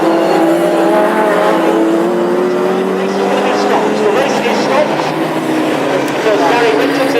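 Classic hot rod race cars lapping an oval track in Birmingham, a loud dense roar of several engines revving and passing, with a commentator talking over it throughout.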